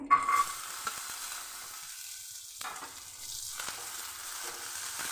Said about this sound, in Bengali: ঘি দিয়ে কাজু ভেজে নেব।